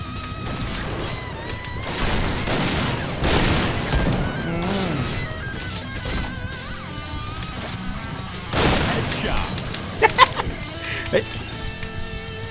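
Sniper rifle gunfire in a video game, a few sharp shots and crashes standing out among game sounds while someone talks excitedly over it.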